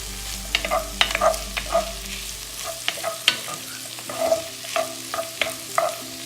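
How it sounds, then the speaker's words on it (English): Chopped onions softening in a frying pan for chili, a low steady sizzle under repeated close scraping and clacking strokes of a spoon stirring them, with no voices. "cook these off until they soften. Keep stirring"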